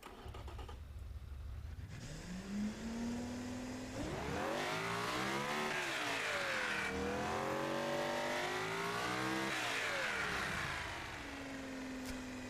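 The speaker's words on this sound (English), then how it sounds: "It's not the worst engine I've built ever in terms of kind of power delivery. Shall we give it a fire up and see what it sounds like?" A custom seven-seat supercar engine in the Automation car-building game cranks, settles into a steady idle, then revs repeatedly in rising and falling sweeps before dropping back to idle, heard alone.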